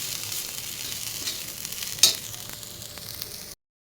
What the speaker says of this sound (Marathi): इकडे खोबरा फ्राय होता, थोडासा तांबूस होऊ जा आणखी 5-1 मिनटं भाजत